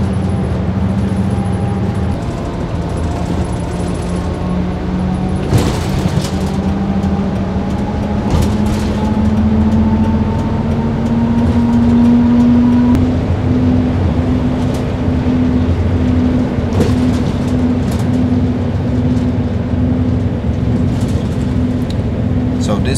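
A bus on the long ride from Hiroshima to Sandankyo Gorge drones with a steady engine hum that slowly rises in pitch as it accelerates, with rattles and bumps and a voice talking over the cabin noise.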